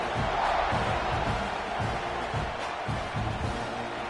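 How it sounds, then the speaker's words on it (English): A football stadium crowd roars after a touchdown drive by the Rambling Wreck in a college game, making a continuous broad din of cheers and shouts that stays loud and sustained. "this crowd is feeling themselves after that last drive"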